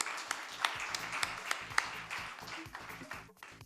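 An audience at an awards ceremony claps for the jury: a quiet, steady patter of claps, fairly distant and sparse, runs the whole time with faint voices beneath it.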